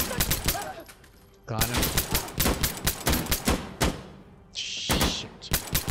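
Rapid pistol shots crack out in quick bursts in Insurgency Sandstorm on the Farmhouse map, loud and close with short pauses and a brief high electronic tone; a voice speaks briefly between shots.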